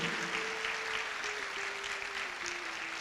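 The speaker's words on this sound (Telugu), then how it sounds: "అందరూ చప్పట్లు" Audience clapping at a Bhagavad Gita book launch celebration in Hyderabad, a dense steady round of applause from many hands filling the hall throughout, with a faint sustained tone underneath.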